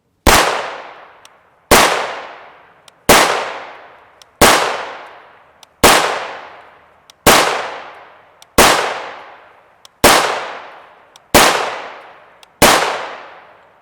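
An 8-inch CMMG MK57 5.7x28mm pistol with a radial delayed blowback action fires Hornady 40-grain VMAX Black rounds: ten loud, sharp shots at an even pace about 1.4 seconds apart, each with a ringing, fading tail.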